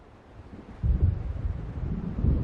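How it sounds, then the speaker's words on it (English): Thunder rolling in ahead of an approaching storm in Alan Wake, a deep low rumble that swells suddenly partway through and keeps churning with wind-like noise, loud and continuous without speech. "It seems there's a storm coming."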